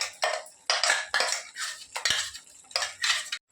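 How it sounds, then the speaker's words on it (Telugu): Green chilli paste being added to bottle gourd cooking in water and stirred in a pot, giving repeated loud scraping and clinking strokes in an uneven rhythm, close by with no talk. "ఇప్పుడు ఈ నీరులోనే మనం ఈ పచ్చిమిరపకాయ పేస్ట్ అంతా వేసేస్తున్నాము"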